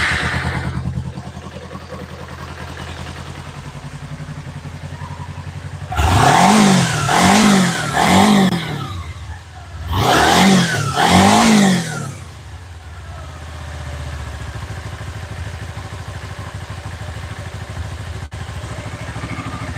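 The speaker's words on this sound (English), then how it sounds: "Properly running motorcycle." A motorcycle engine fired back up during a wrenching session, revving loudly in two clustered bursts of rising and falling throttle blips, then settling to a steady idle.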